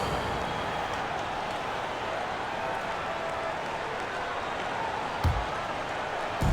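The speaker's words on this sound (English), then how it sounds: "One more round of applause for your performers." A crowd applauds and roars continuously in an NBA 2K22 basketball game, a dense wash of clapping with a couple of brief thumps near the end.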